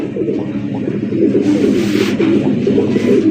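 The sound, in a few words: Basi Raj Koka pigeons cooing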